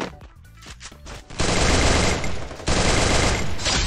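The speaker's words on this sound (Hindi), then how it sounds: "थोड़ी थोड़ी गोलियां चला के" Gunfire erupts in Garena Free Fire clash squad mode: a few scattered shots, then sustained loud automatic bursts that pause briefly and resume, dense and close.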